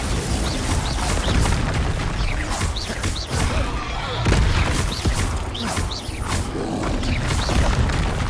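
Bombarda spell explosions in Hogwarts Legacy combat, heard as a dense, loud wash of game noise with repeated booming bursts and crackle throughout.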